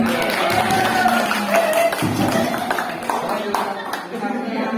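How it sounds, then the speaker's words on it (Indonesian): Applause for Bu Ermi at an Indonesian teachers' gathering, a steady wash of clapping hands from a small crowd that lasts throughout, with a voice speaking over it. "Sebelumnya aplaus dulu untuk Bu Ermi."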